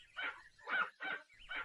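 A cartoon dog barks four times in a quick, bright series of short yappy woofs, close and clear with brief gaps and nothing else around.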